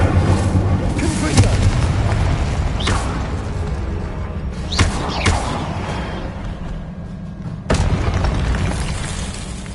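An Expelliarmus spell is cast in the video game Hogwarts Legacy, setting off several deep booming blasts and sharp cracks over a constant, loud rumbling game soundscape.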